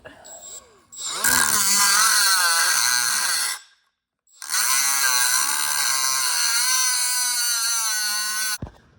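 A power tool whines through spiked lug nuts on a car wheel of a Belvedere in two long, loud cutting bursts with a short gap between them. The pitch wavers as the tool bites into the metal.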